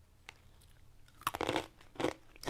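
Crunchy chewing of roasted corn snack pieces mixed with small corn chips and cheese bits, close to the mic, starting with a soft bite then louder crunching bursts.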